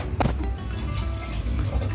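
Water is tipped into a pot of rice for biryani at a late-night party, a brief close splash and gurgle settling into a steady watery rush.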